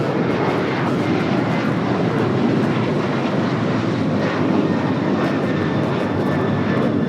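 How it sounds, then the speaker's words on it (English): A United Airlines Boeing 737-900ER takes off at LAX, its engines a loud, continuous broadband roar holding steady throughout, with no voices over it. "This is United Airlines 1260 taking off to Denver, Colorado on the 737-900ER."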